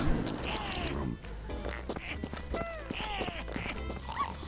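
A dog in the video game Neighbours from Hell 2 gives a few short whimpering yips and chirps over layered game effects and a low background hum.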